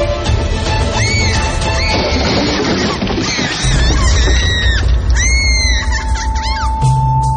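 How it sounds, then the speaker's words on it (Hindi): A staged horror-story effect of a bed crashing to the floor with a scream: loud, dense crashing and shrieking cries, with wailing, cat-like squeals layered over a heavy low rumble throughout. "उसका पलंग हवा में उठा और रोजलिन की चीख के साथ ही उसका बेड जमीन पर शोर की आवाज के साथ गिरा"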